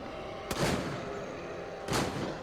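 Two loud, close gunshots go off in the survival game Fear the Night, about a second and a half apart. Each sharp crack trails off in a short rumbling decay over steady background noise.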